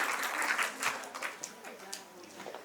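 An audience in a hall at a Mission Shakti event applauds, a moderately quiet patter of clapping that thins into scattered individual claps as it dies away, with voices murmuring underneath.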